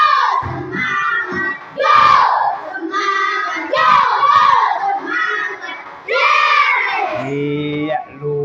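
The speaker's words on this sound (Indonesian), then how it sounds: "Sekali lagi, yuk, tepuk semangat." A class of schoolchildren in a teaching session performs a spirit clapping chant, loud and close, their voices shouting rhythmic phrases in bursts with short pauses between lines.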